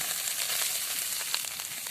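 Grated cauliflower frying in a pan with ground ginger, garlic and green chilli paste, a steady close sizzle with faint crackles and a light stir near the end.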